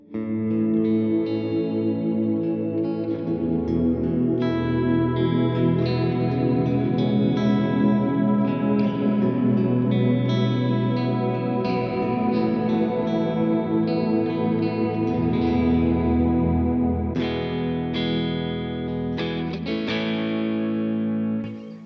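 Electric guitar through an HX Stomp reverb with trails on, sustained chords and swelling notes ringing with wide, lush ambience and chorus-like shimmer, loud and continuous throughout with no talking.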